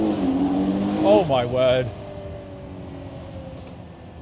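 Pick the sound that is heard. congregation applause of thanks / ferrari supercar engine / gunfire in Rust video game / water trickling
ferrari supercar engine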